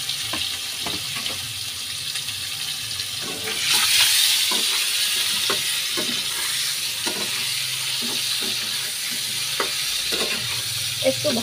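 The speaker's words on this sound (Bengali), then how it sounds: "এবার ডিমগুলো তেলের মধ্যে ছেড়ে দিচ্ছি। আলুগুলো ছেড়ে দিচ্ছি, একটু ভেজে নেব।" Eggs and potatoes drop into hot oil to fry, a steady sizzle that swells louder as they go in, punctuated by repeated utensil clinks and scrapes nearby.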